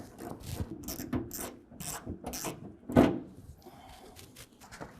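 A ratchet fitted with an 8mm socket backing out fender bolts on a 2020 Ram 2500, a series of close clicking and rubbing bursts with one louder clack near the middle.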